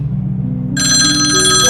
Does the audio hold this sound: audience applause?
no